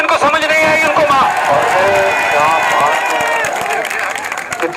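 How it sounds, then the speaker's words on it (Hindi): Crowd at a political rally where a politician campaigns in Balaghat, clapping and cheering in a dense, sustained wash of applause with murmuring voices, loud and steady throughout. "जो समझ गए वो ताली बजा दो"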